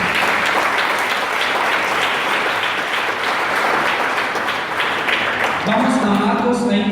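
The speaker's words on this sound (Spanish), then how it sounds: "Denle un fuerte aplauso a Dios." A church congregation claps in loud, sustained applause filling the room, with a swell of voices and a low hum rising near the end.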